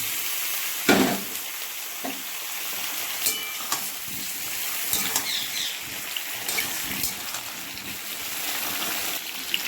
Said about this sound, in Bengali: আদাগুলো প্রায় ভাজা ভাজা হয়ে এসছে দেখুন এবার এর মধ্যে আমি আমলকিগুলোকে ছেড়ে দেবো